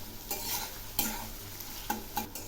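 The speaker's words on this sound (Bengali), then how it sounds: "প্রথমে আমি এই পেঁয়াজ রসুনগুলো খুব ভালো করে ভেজে নেব, একদম লাল করে" Onions and crushed garlic frying in a pan produce a steady sizzle, broken by several distinct scraping stir strokes of a spatula, close and clear with no talking.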